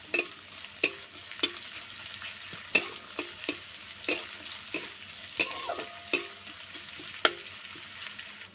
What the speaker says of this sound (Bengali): পেঁয়াজটা একটু ভাজা ভাজা করে নিয়েছি